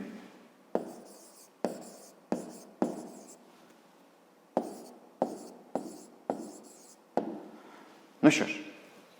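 Pen or pencil strokes scratching on paper while a math answer is written out by hand, about a dozen short bursts of scribbling in an irregular rhythm, close and moderately quiet, ending with a louder scrape.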